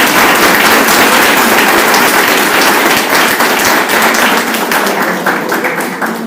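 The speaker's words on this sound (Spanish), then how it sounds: "Le damos un aplauso." Sustained audience applause in a parish hall at a round-table event marking a church's 50th anniversary, dense steady clapping throughout that thins slightly toward the end.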